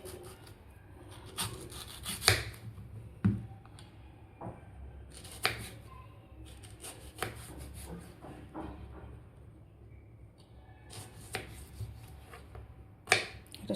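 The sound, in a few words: cutting a raw mango into small pieces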